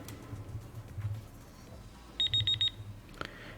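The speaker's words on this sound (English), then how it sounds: "And there goes the timer." A tournament timer at a Star Wars tabletop miniatures league match goes off with a quick run of about six sharp, high electronic beeps. The beeps are brief and fairly clear over a quiet room murmur.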